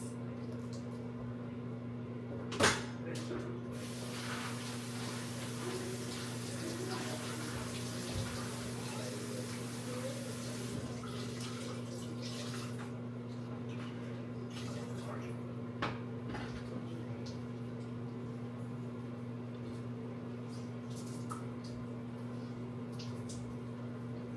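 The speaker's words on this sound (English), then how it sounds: "I'm gonna wash this." A steady, even rush of tap water runs for over twenty seconds while something is rinsed under it in a home kitchen. A sharp knock comes near the start, along with a few light handling clatters and rustles close by.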